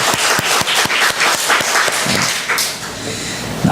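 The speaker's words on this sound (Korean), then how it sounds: "박수 격려의 박수 합니다" A church congregation at a Sunday service bursts into encouraging applause, many hands clapping loudly and densely at close range, without talk.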